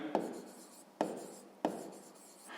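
Pen or pencil writing by hand during a sixth-grade math exercise, three sharp scratchy strokes each starting with a tap and trailing off, close and quiet with no talking.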